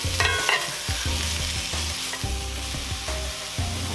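Sweet onion sautéing in a pan for chicken fajitas, a steady close sizzle with repeated stirring scrapes and clatters every half second or so, no talking.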